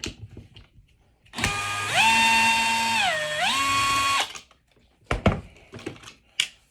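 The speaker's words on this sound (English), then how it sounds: "So now we're gonna go ahead and remove that top Torx like we loosened earlier." A power driver whirs steadily for a few seconds, its pitch dipping briefly, while backing a Torx screw out of a Husqvarna 562XP chainsaw during a starter pulley replacement, followed by a few short clicks and clatters.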